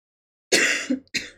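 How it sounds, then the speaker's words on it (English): A single close, harsh cough bursts out after silence, followed by a brief second cough. "Sorry about the cough."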